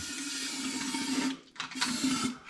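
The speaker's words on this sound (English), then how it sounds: "have a good spray round, make a bit of a mess." A steady hissing paint spray runs continuously into a classic Mini's body, briefly cutting out before resuming for another sustained burst.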